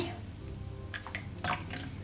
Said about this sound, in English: empty the water